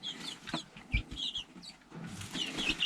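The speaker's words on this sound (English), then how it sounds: "We got ourselves some feisty chickens." Chickens cluck and squawk inside a sand-floored coop, with a few close, brief calls scattered over a quiet background and some faint rustling.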